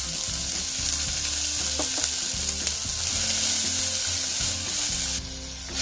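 Onion roasting in a spoonful of oil alongside tomato for a Malvani brinjal and dried shrimp curry, a steady close sizzle with occasional spoon scrapes and clicks, no voices.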